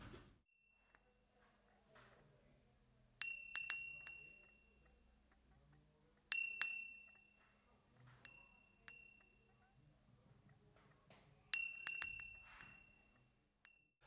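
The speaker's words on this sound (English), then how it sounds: "we're going to use this priest's bell that it's quite common to see here in Portugal" A small Portuguese priest's hand bell rings in short bursts of bright, metallic clinks, with four clusters of strikes spaced a few seconds apart and near silence between them.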